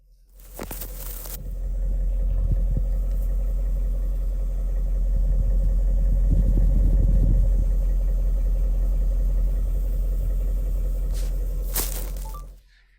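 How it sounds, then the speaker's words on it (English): A 2000 BMW 540i idles close up at about 500 RPM with a low, steady rumbling exhaust, a slight clatter swelling midway before it fades at the end. "we're gonna get low so you can see and hear the exhaust."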